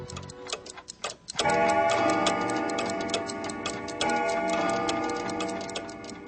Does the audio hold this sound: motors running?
no